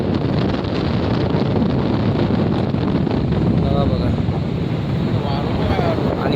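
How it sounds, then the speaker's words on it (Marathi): Fierce wind roars continuously against the microphone on a rough sea coast during rain, a loud, dense rushing that masks most other sound, with a voice faintly heard under it. "वारा तर एवढा बेफाम आहे ना"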